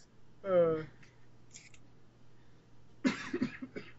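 A short cough rings out close by, then after a pause a burst of rustling and a voice talking briefly.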